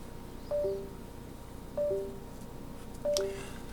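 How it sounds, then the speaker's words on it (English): A computer keyboard alarm beeps three times, each a short pair of faint electronic tones at a steady interval of about 1.3 seconds, over quiet room noise. "oh, my keyboard, that's what that alarm was"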